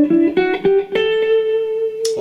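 An electric guitar is alternate picked through a brief ascending six-note fragment on the low strings, quick picked attacks blending into a ringing sustained tone, close and clear.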